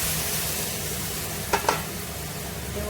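Spice paste frying in a pan with a little water, a low steady hiss with a pair of quick stirring clinks midway.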